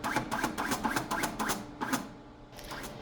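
An EDGE 2 vinyl printer homes and aligns a roll of perforated vinyl, producing a close, rhythmic series of short mechanical whirring bursts that slow and space out toward the end.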